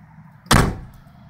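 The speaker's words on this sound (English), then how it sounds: "then close the rear door to the vehicle" The rear hatch door of a 2004 Volvo XC70 swings shut with a single solid, close-up slam, then a short dull decay into quiet.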